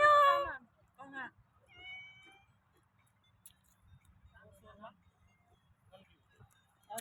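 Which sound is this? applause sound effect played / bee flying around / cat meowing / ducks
cat meowing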